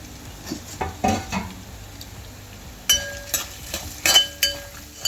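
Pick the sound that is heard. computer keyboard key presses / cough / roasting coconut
roasting coconut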